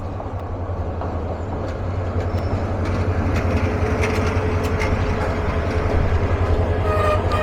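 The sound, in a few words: Egarosindhur Provati Express train, locomotive shunting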